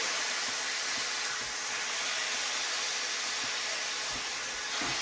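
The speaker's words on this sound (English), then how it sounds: "One of the things you want to do to get a nice sear on the pork belly, press down on it a little bit." Pork belly searing in a hot pan makes a steady, broadband sizzle and hiss at moderate level, with faint intermittent crackles and no talking.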